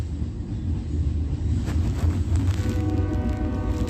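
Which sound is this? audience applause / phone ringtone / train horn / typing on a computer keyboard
train horn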